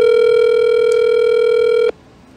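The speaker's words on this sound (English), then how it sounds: "Come on, Kat, pick up the phone." A telephone ringback tone on an outgoing call holds as one loud, steady electronic tone, then cuts off abruptly near the end, leaving near silence.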